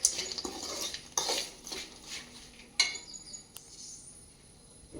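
A spoon stirs and tosses puffed rice chivda seasoned with chili powder and chaat masala in a pan, with a few sharp clinks and soft scraping, rustling strokes at close range, alone.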